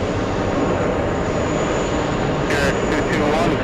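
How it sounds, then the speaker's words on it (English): Qatar executive jet taking off at JFK airport, a loud, continuous broadband engine roar with a steady high whine and some bursts of wind noise toward the end. "Looks like we have a Qatar executive taking off right now."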